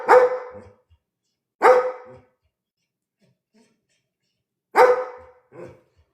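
A sheepdog barks in three loud, close bursts with long silent gaps between them, followed by a softer short yelp at the end.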